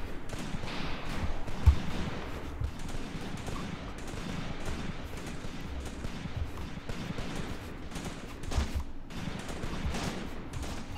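Soldiers in a World War II video game battle for Shilovo in 1942 trade dense, continuous gunfire, rattling and thumping without pause, with a few heavier booms mixed into the fusillade.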